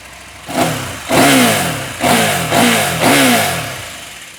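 A 2023 Husqvarna Norden 901 adventure motorcycle with its stock exhaust idles, then revs up sharply four times in a steady rhythm, each burst rising and falling back, close and loud.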